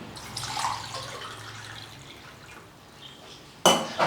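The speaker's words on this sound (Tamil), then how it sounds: "அதில் தண்ணி சேர்த்துக்கலாம்." Water is poured into a cooking pot holding varagu rice, a soft liquid trickle and slosh that fades, then a sudden sharp clatter near the end.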